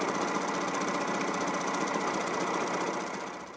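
A sewing machine runs a decorative scalloped or zigzag stitch, its needle chattering in a fast, steady, dense rhythm up close before slowing slightly at the end, with no voices.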